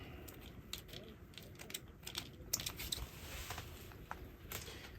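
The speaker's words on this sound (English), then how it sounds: "Bit of rosemary here. And I'm just going to cut it up a little bit." A knife chops fresh rosemary on a cutting board, giving a quick run of light, crisp taps close by over a soft background hiss.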